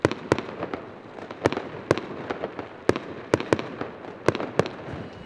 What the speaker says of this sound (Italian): In diversi punti della città i fuochi d'artificio quest'anno più contenuti.